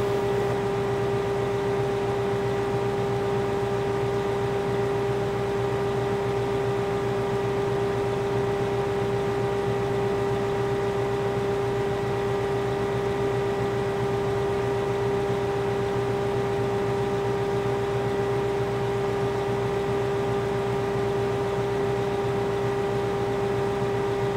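A forage harvester chopping corn in the Farming Simulator 15 video game gives off a steady, loud mechanical hum with a strong sustained tone and overtones, unchanging and continuous with no talking.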